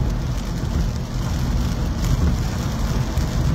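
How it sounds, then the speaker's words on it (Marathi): Steady drizzle falls during travel, giving a dense, even patter of rain blended with a low road rumble. The wash of sound is continuous and moderately loud, with no talking over it. "पावसाची रिपरिप सुरूच आहे."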